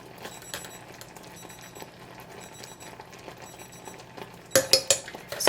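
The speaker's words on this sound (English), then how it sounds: "Just keep stirring and keep cooking." A spoon stirs a pot of boiling Christmas crack toffee candy, with steady, repetitive scraping and clinking at close range and a burst of louder clatter near the end; no one speaks.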